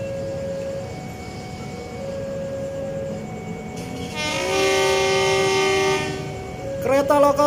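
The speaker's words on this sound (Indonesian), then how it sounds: "Kereta lokal Cibatu berangkat stasiun Cilame." A local train to Cibatu rumbles nearby while departing Cilame station at night, then its horn sounds a long, loud blast before fading into the clatter of moving cars.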